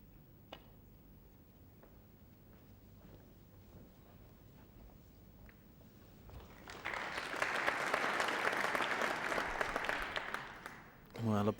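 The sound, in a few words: audience applause at snooker match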